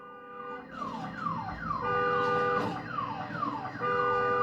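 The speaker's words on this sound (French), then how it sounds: "Neutralisez l'alarme de la voiture avant d'essayer de la fouiller." A car alarm blares in the video game Days Gone, a loud, steady, repeating falling electronic wail that sweeps downward in rapid cycles, close and continuous with no talking.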